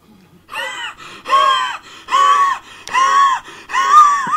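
Gasping, wheezing breaths from a character in the video game Dead Island 2, five loud strained voiced gasps in a regular rhythm, each lasting under a second, with no speech.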